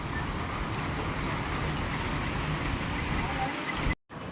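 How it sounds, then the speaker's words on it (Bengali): Heavy rain falling outside a ninth-floor flat makes a dense, steady, even hiss that stays constant before cutting out abruptly near the end. "বাট অনেক বেশি বৃষ্টি হচ্ছে"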